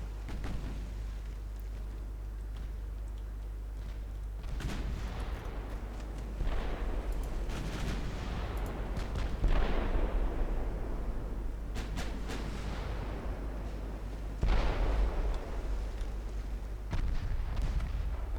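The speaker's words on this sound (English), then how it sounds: "Six-inch guns are opening up now too." Six-inch battleship guns fire in the naval game Ultimate Admiral Dreadnoughts, set in an 1893 Norwegian campaign. Several heavy, booming shots land as separate loud blasts every few seconds over a low, steady rumble, with no voices.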